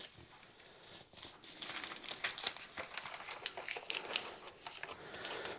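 Paper template peeled off a drawing for a Johnny Ramone guitar build, a continuous dry crinkling and tearing rustle with small crackles, close and fairly quiet, no talk.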